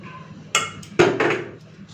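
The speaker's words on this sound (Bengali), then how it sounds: "এখন নিয়ে নিচ্ছি পটল ভাজা," Fried pointed gourd is served onto a plate, with two crisp close clatters of utensil on plate followed by fading rattles, with no voices.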